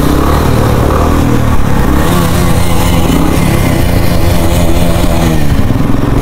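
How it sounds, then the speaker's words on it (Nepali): A green 2021 Bullet motorcycle riding in a group ride, its engine a loud, close, steady thumping rumble that holds throughout. "त्यो मेरो बाइक भन्दा यो बाइक अलि लाउड छ"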